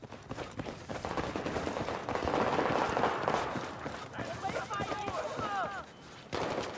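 Rapid bursts of gunfire in the Battlefield 4 video game crackle over a busy combat soundscape with running footsteps, while a person talks throughout.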